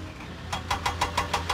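A diesel engine in a Thomas and Friends video game chuffs in a rapid regular rhythm of about six beats over a low steady engine hum, fairly quiet and with no talk.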